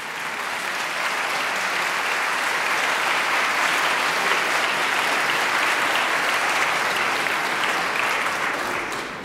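A Protestant church congregation applauds during a Salvation Army service, producing a dense, sustained wash of clapping that stays loud and even throughout before easing slightly at the end.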